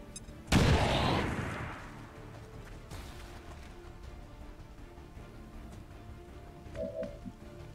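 A grenade explodes in the XCOM 2 strategy game as a single sharp, loud blast followed by a decaying rumble, then a fainter crack and quiet ambient tones.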